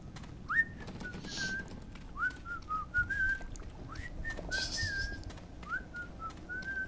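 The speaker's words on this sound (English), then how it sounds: "I hear someone whistling." A man whistles a melody in Bioshock 1 HD Remastered, in short rising-then-level phrases repeated several times over a low rumbling game background, clear and fairly close.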